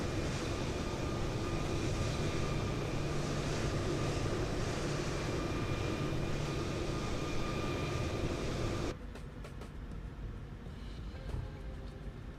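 PMDG 737-800 airliner taxiing at Melbourne in Microsoft Flight Simulator, a steady, loud engine hum and whine from the cockpit that drops sharply in level near the end and continues more quietly.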